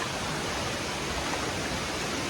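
A waterfall near Khadkona village during monsoon rain gives a dense, even roar of rushing water filling the whole scene, with no voices.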